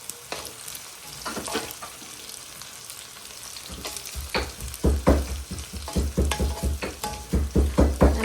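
Fish curry with pepper is stirred in a sizzling pan, a quiet fry giving way to loud, rhythmic spoon-scraping strokes that repeat steadily through the second half.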